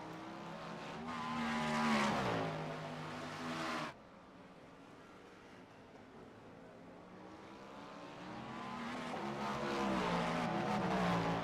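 Race cars in the iRacing game at Le Mans roar down the Mulsanne straight, engines rising in pitch as one passes, dropping abruptly, then another surges and climbs again, loud and alone.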